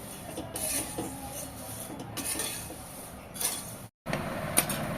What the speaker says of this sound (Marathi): इथे मी दोन टोप पोहे घेते आणि गॅसची फ्लेम मध्यम ठेवून दहा ते पंधरा मिनटं भाजून घेणार आहे